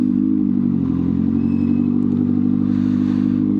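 A CFMOTO 750SR-S motorcycle with a 750cc engine idles nearby, a steady, loud, low mechanical rumble with even pulsing and no rev changes.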